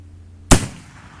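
A single sharp, loud rifle shot from a .308 rifle loaded with homemade black powder, fired outdoors, a sudden close crack followed by a brief decaying rumble.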